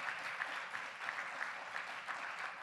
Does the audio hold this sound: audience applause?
yes